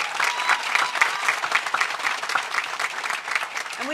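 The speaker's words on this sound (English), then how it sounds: "Let's give a huge round of applause to Senator Andrew Gennardis and Assemblymember Millie Rosa." An audience claps warmly and continuously for a state senator and an assemblymember at a New York bill-signing event, dense close applause with no voices.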